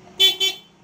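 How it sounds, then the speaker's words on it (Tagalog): Two short, bright honks from the horn of a Suzuki Every Wagon PZ Turbo high-roof van in quick succession, close and clear over a quiet background. "yan yung ating horn."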